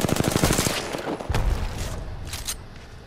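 Charge rifle gunfire in an Apex Legends match: a rapid burst of shots, then a heavy boom and trailing crackle with fainter follow-up reports, loud and fairly close, with no voices over it.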